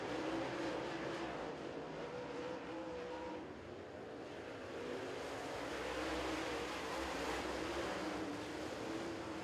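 Super late model race cars circle Crossville Speedway, engine drone rising and fading as the pack passes at a distance, with a continuous low rumble and faint roar throughout.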